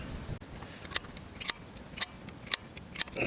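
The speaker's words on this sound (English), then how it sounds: "I got automatic center punch here." An automatic center punch snaps against a broken bolt in a series of sharp, evenly spaced clicks, about one every half second, close and crisp over a quiet background.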